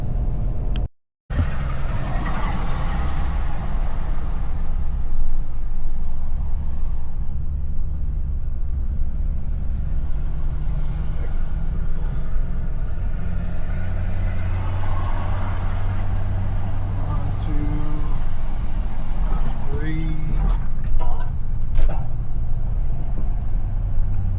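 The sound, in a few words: car driving on a road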